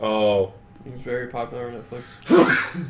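After a short stretch of conversation, someone gives a single sharp, explosive sneeze near the end.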